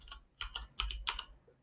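Keystrokes on a computer keyboard while a JavaScript development environment is being set up, coming as a few short quick bursts of clicking taps, close and fairly quiet, with no talking.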